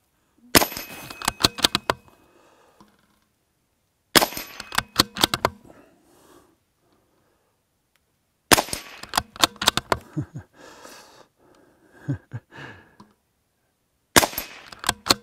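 Rimfire rifle shots striking a D-M Targets Rimfire Spinner Pro steel target come in four clusters of sharp, rapid cracks, each trailed by metallic ringing and clatter, with quiet gaps between bursts.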